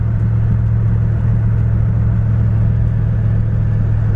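A Dodge Diplomat with 53,000 miles cruises at about 30 mph, its engine and road rumble loud and constant from inside the car, with a steady low drone throughout.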